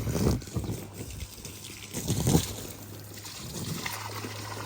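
Water poured onto already wet ground outdoors, emptied from a small pool, trickling and splashing in uneven surges, fairly close, with a faint low hum running underneath.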